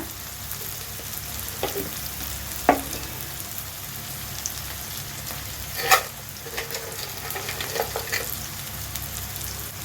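A bay leaf and whole spices fry in hot oil for a fish dish, giving a steady, soft sizzle broken by a few sharp pops and light clicks of a utensil.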